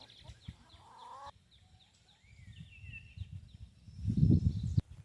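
Brown egg-laying chickens cluck and chirp softly in a barnyard, with brief bird calls and some shuffling noise building toward the end.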